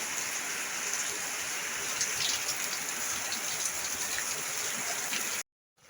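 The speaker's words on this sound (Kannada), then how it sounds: "ಮಳೆ ಭಾಳ ಜಾಸ್ತಿ ಇದೆ ನೋಡಿ" Steady, dense rain pours down continuously, a loud hiss of drops hitting surfaces, then cuts off abruptly near the end.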